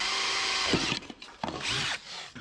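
Power drill boring a hole through the cowl panel of a 1967 Toyota Stout truck body, heard as two bursts of close, loud whirring with a brief pause between and a short trailing spin at the end.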